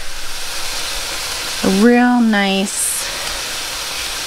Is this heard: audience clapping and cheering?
no